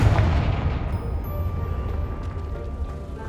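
A Confringo spell explosion in the video game Hogwarts Legacy, a heavy booming blast at the start that rolls into a long, loud low rumble and fades slowly over several seconds.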